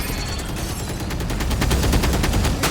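Rapid, dense gunfire in Valorant crackles continuously, bursts overlapping in a loud, sustained barrage.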